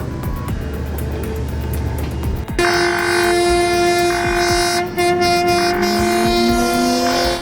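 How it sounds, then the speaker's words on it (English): A train rumbles past close by as it crosses a street in Baku, its horn sounding in long, loud sustained blasts, wheels and clatter rolling underneath. "this train is slicing across a street"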